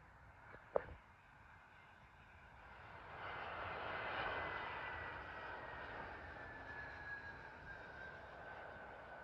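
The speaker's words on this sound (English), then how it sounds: "Arriving in now is a British Airways Airbus A320 from Naples" A British Airways Airbus A320 arrives at London Heathrow. Its jet engines build into a broad, distant roar that swells and then holds, and a brief sharp knock is heard near the start.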